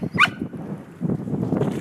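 A dog gives one short, sharp bark or yip close by outdoors, followed by low scuffling and faint murmuring.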